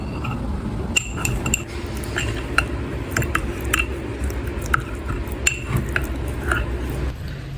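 A metal spoon stirs a rose water mixture in a bowl, up close. It gives off irregular light clinks and taps against the side, over a soft, wet swishing.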